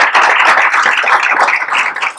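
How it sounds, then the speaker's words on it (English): Audience clapping for a panel of speakers at a campus talk event, a short steady burst of close, bright hand claps with no voices. "And let's give them a round of applause."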